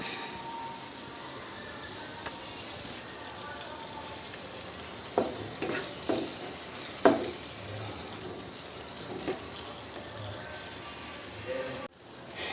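Curry masala frying in oil until the oil separates, a soft steady sizzle with a few louder stirring scrapes in the middle and a sudden clatter near the end, fairly quiet throughout.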